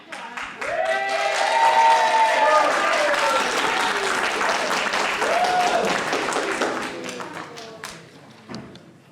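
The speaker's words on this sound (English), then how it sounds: "Give him a round of applause, everybody." A conference audience breaks into sustained applause, many hands clapping together at close range, swelling quickly and then tapering off. A voice speaks over the clapping.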